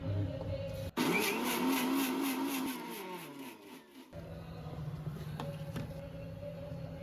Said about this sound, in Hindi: आप मिक्सी में डालो 10-12 बादाम भिगोए हुए जो रात को भिगो के रखे आपने, वो डालो और थोड़ा सा दूध और उसको चला दो।